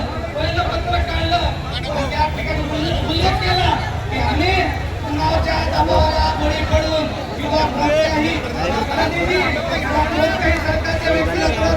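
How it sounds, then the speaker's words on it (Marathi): A huge crowd of twenty to twenty-five thousand tribal protesters at an Ulgulan march makes a dense, steady roar of overlapping voices and chatter, loud and continuous throughout. "अतिशय प्रचंड गर्दी वीस ते पंचवीस हजार आदिवासी जमा झालेले आहेत"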